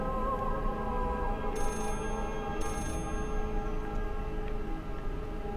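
A telephone rings inside the psychological horror game Layers of Fear, a steady, repeating electronic trill held at moderate loudness over a dense, droning ambient background.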